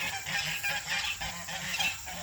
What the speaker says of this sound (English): These geese are just following me.